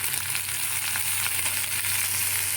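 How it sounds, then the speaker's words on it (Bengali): Pumpkin pieces frying and being stirred over low heat in a Bengali wedding-style dish, giving a steady close sizzle with faint scraping throughout and no talking. "এবার কুমড়োটা দিয়ে আবার সেম প্রসিডিওরে কিছুক্ষণ চাপা দিয়ে দিয়ে অল্প আঁচে কষিয়ে নেবো নাড়িয়ে নেবো"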